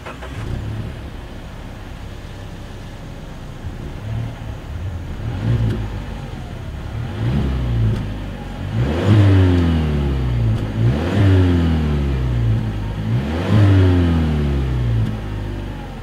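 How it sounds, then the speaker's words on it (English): A 2020 Mazda 6 with dual exhaust outlets and chrome tips idles steadily, then revs sharply three times in a row, each rise loud and close before falling back to idle, with no talking. "As always, here is that exhaust clip."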